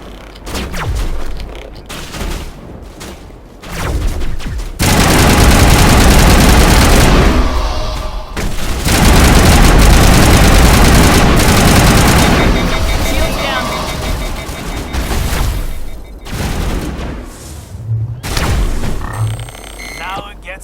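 Mass Effect crossfire battle with dense, sustained gunfire and booming blasts rolling for long stretches, loud and close, with talk in between the bursts.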